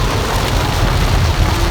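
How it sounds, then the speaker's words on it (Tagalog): Heavy rain pouring down in a dense, constant roar, loud and close, with no talking. "Ang lalaki ng patak ng ulan."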